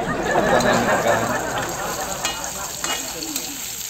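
Squid sizzling and frying in a hot pan for a sautéed squid dish, with stirring at the start. The sizzle is loudest early and eases to a steady hiss with light clatter.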